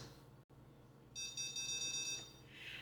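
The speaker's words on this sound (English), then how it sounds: "there we have a series of beeps that happened when the device was full" A rapid series of high electronic beeps from a Tovala steam oven signalling its water tank is full sounds for about a second, close and clear, followed by a brief softer tone.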